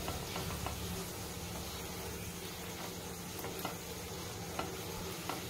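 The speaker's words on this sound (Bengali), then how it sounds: "আমরা পরোটাগুলো ভালো করে ভেজে নিচ্ছি" Semolina parathas frying in a pan make a soft, even sizzle with faint crackles, fairly quiet and continuous, with no one talking.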